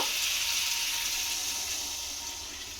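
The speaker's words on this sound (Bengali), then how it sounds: "আমি এর মধ্যে গরম জল দিয়ে দেব।" Hot water poured steadily into a pan of soybean and egg curry, a close, continuous bright splashing rush that fades slightly toward the end.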